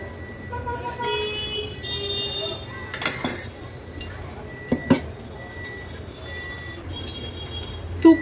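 A steel cooking pot is set on a gas stove and ghee is spooned in, giving a few sharp metallic clinks and clatters over a low steady background hum.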